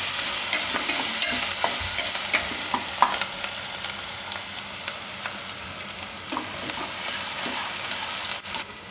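Onions stirred and fried in hot oil in a pan for a Gujarati suran curry, a steady loud sizzle with scraping stir strokes throughout, no talking.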